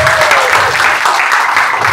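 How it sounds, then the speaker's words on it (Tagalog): A church audience claps together in a quick, even rhythm of ten claps, loud and close, filling the whole moment with no speech over it. "Sige, nanalo kayo ng 10 palakpak."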